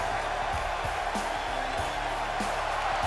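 A raucous arena crowd cheering and whooping in the wrestling video game WWE 2K, a steady roar of noise with occasional shouts rising out of it, filling the whole stretch.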